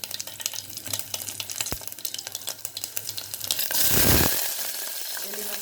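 Cumin seeds, dried red chillies and garlic frying in hot oil as a sambar tempering: a soft crackling sizzle that suddenly surges into a loud, hissing burst as ingredients hit the pan, then settles into a steady fry.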